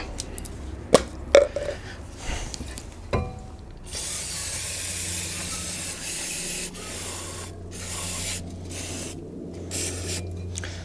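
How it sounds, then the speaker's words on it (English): Brake and clutch cleaner sprays in a long steady aerosol hiss onto a front brake caliper of a Mk5 Ford Mondeo, following a few short knocks and clatters of handling, close and with no talking. "This is just brake and clutch cleaner."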